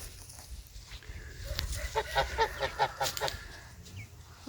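A goose on a farm in autumn, with ducks around, honks in a quick series of loud nasal calls, fairly close, over faint outdoor background noise.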